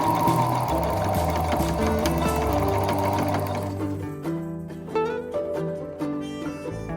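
A sewing machine stitches a seam over an old seam line in a pair of pants, a close, loud, rapid mechanical whirr that runs steadily and then slows into separate, spaced stitching bursts.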